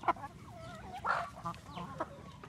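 Large chickens calling amid farmyard background noise, a few short clucks and honk-like cries scattered across a couple of seconds, moderately faint.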